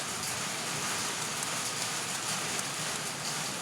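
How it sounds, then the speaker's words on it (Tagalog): Steady rain falls in a constant, even hiss with no breaks, fairly quiet and heard on its own without voices. "Naulan nga"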